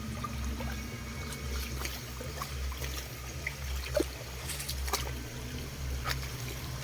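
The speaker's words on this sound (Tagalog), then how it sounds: "So ito pa yung ilog mga kadol." Mountain river water flows in a steady, broad wash with a low continuous hum underneath and a few faint clicks scattered through, with no voices.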